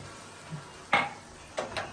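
Chicken pieces and grated tomato being sautéed in a pan: a few sharp utensil scrapes and clinks against the pan, spaced out over a faint sizzle, close and fairly quiet.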